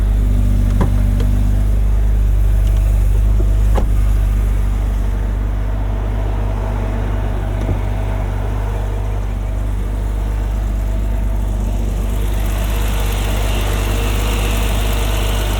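A 1991 BMW M5 E34's 3.5-liter inline-six engine idles steadily with a low, even rumble and faint vibration, running continuously close by with no talking.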